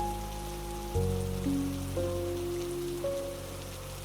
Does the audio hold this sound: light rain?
yes